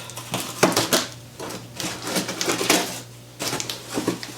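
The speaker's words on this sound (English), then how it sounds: "I'm going to pretty much get scissors and cut into this" Scissors slicing open a heavy cardboard shipping box, giving a series of crisp, scratchy cuts and crackles in uneven bursts with short pauses, close by and moderately loud.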